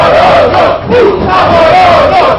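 Guarani football fans roar and chant together in a stadium, a loud, sustained mass of voices with rising and falling sung tones.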